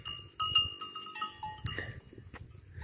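Goats in a herd in the Brazilian sertão, the dry Caatinga scrubland, with bleats and a clanking bell heard at close range. Calls and animal movement come in bursts, moderately loud, and no one speaks.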